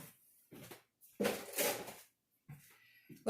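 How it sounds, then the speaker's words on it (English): Raspberries being stirred into raspberry jam in a bowl: a series of soft clunks and scrapes from the utensil, coming in irregular bursts with short pauses between them. "So I'm going to just stir these in."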